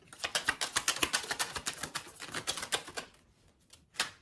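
A deck of tarot cards is shuffled close up in a rapid run of crisp, papery flicks for about three seconds, then a short pause and one final flutter.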